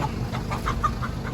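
Chickens cluck in a market in Laos, a run of short, clipped calls at moderate distance over a steady background hum.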